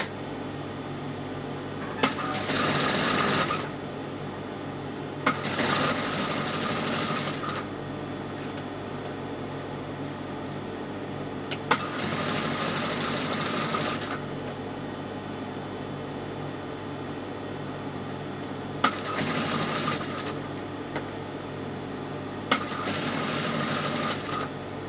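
Sewing machine stitching a hem with a hem foot, several separate runs of steady buzzing whir lasting one to two seconds each, with quiet gaps between runs.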